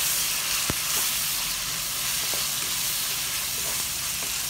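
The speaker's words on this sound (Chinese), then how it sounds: "进行炒" Pork skin and ginger stir-frying in a wok, a steady close sizzling hiss with occasional sharp clicks of a spatula, no talking.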